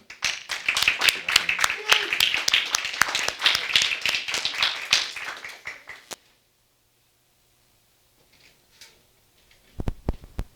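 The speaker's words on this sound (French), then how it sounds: "On peut applaudir pour le Seigneur." A church congregation claps in steady rhythm for about six seconds, loud and close, then falls silent before a few final claps return.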